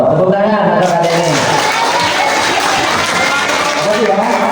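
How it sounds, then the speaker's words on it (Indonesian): Audience applause for a child at a religious talk, steady dense clapping through the whole stretch with a speaking voice layered over it. "tepuk tangan untuk adik ini"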